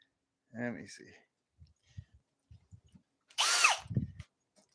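A short, high whine of a power drill drilling into scrap metal bursts in for about half a second, after someone speaks briefly and a few light clicks and knocks.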